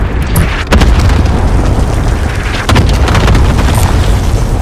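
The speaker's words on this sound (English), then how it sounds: "Grenade." Grenade explosions in the Warzone battle royale on Rebirth Island, two loud sharp blasts with rumbling tails over a constant noisy backdrop.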